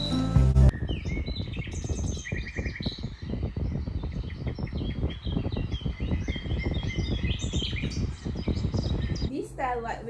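Chirps and calls from many birds at an urban bird park in Kuala Lumpur that holds eagles and macaws fill the air continuously, bright tweets layered over a dense, busy background wash.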